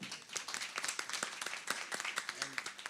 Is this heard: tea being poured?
no